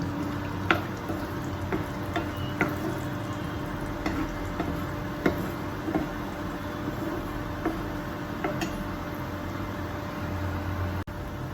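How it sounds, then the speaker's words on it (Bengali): Raw peanuts fry in a pan while lemon rice is being prepared, a steady soft sizzle running throughout with occasional light clicks and scrapes of stirring, close and moderately quiet, with no talking. "কাঁচা বাদামটা ভাজা হয়ে গেল,"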